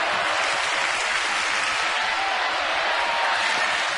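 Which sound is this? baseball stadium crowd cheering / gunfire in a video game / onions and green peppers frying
baseball stadium crowd cheering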